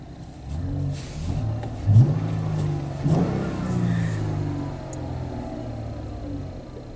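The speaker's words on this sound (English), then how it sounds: "Let's get out and listen to the engine." A car engine revs up and down a few times, close by at an auction yard, with a low rumbling growl between the surges and no talking.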